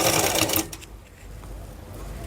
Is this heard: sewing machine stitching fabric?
yes